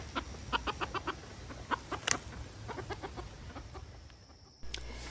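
A backyard rooster gives a repeated alarm call among garden hostas, a string of sharp clucking notes close by, with a louder squawk midway and quieter clucks trailing off.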